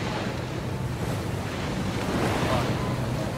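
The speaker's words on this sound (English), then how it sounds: "Gee, there's plenty of wind now in the middle of the bay." Strong wind and breaking waves in the middle of a bay during a Volvo Ocean Race pro-am sailing race, a loud, continuous rush with wind buffeting the microphone and no break throughout.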